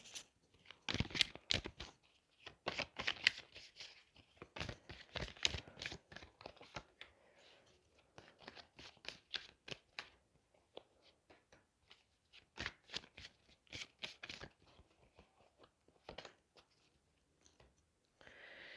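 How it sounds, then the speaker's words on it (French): Tarot cards being gathered and shuffled by hand: quick papery riffles and flicks in clustered bursts, close but soft, with short pauses between handfuls. "Hop, je ramasse mes cartes."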